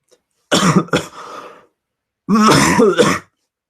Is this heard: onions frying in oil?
no